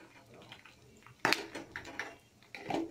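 Spoon clinking and scraping against a metal bowl while stirring turmeric into a poha mixture snack with roasted gram dal and curry leaves, several sharp knocks among softer rustling, close and fairly quiet.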